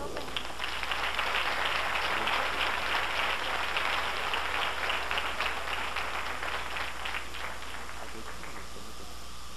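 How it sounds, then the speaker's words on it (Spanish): Warm, steady applause from a crowd at a hairstyling contest event, a dense rain-like wash of clapping that holds for most of ten seconds and slowly fades. "vamos a despedirla con un calurosísimo aplauso"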